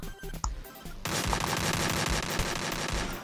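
Gunfire in the Free Fire battle royale game: after a short quieter opening, a loud, dense stretch of rapid automatic shots runs continuously to the end.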